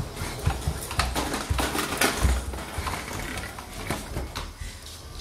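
A dog pushes a Henry hoover across a floor, making dense clattering, rattling and bumping noises with a ratchet-like mechanical character, close and fairly loud throughout.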